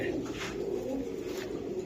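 Pigeons at a Bengali market stall selling breeds such as red Gorra, silver Giribaz and Beji coo in low, steady murmurs, moderately near and continuous throughout, with faint background noise.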